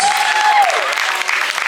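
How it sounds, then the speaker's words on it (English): Audience applause at a kids' open mic night in a library, a steady wash of clapping held at an even level, with a faint whistle-like tone near the start. "give a round of applause, please."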